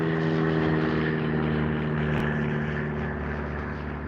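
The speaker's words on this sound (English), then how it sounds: "See? Y'all see the plane back there?" A propeller airplane passes overhead in a park, its steady droning engine hum loud and continuous throughout, slowly fading slightly toward the end.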